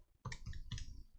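Calculator buttons being pressed during a statistics calculation: two or three quick plastic clicks, very close and quiet, with no talking.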